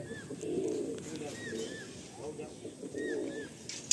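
Blue-barred, blue-beaked Andhra and Madrasi pigeons coo softly in a loft, making several low rolling coos in uneven bursts over a faint steady background.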